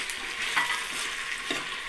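Fresh mint, with curry leaves nearby, is stirred into biryani masala frying in hot oil: a steady close sizzle with soft scraping stirs and a couple of brief louder clinks of the spoon.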